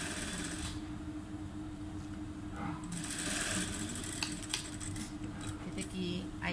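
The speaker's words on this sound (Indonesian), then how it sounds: "Sekarang kita nak jahit zip." A sewing machine stitches a concealed zip onto a dress sleeve end, a steady whirring run with a few small clicks and taps, close and moderately loud with no talking.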